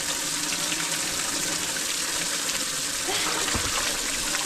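Strong water rushes steadily into a flooded rural field, loud and close throughout, a broad unbroken roar with a brief splash near the end.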